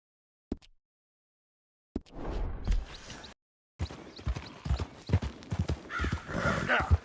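Horse hooves clip-clop steadily on a hard surface in Red Dead Redemption 2, close and clear, with a snort and some clatter in a game-like soundscape.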